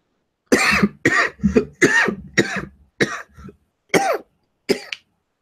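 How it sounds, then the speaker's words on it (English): A run of eight close, sharp coughs in quick bursts with brief pauses between them, loud and near, with no speech. "The weirwood makes me cough sometimes."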